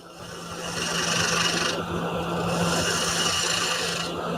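Woodturning tool cutting grooves into face grain wood on a lathe, a steady close rasping scrape over a constant motor hum, swelling and easing between cuts with no talk.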